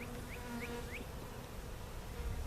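A steady, dense buzz of many honey bees hums close by at a nuc split hive, with a few faint chirps near the start.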